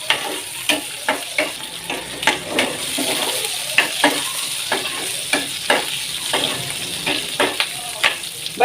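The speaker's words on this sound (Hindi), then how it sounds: "इसको हम हल्का सा जो है वो रोस्ट कर लेंगे घी के अंदर" Green chillies sizzle steadily in hot ghee, with repeated sharp crackles and pops and occasional stirring scrapes, close and fairly loud.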